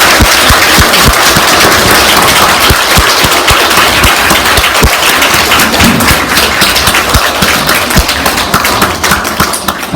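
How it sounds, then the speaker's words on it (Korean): Loud, dense audience applause after a parenting lecture, close and continuous for the whole span with some heavy individual claps standing out, easing slightly at the end. "박수는 있는데 하나가 없어요."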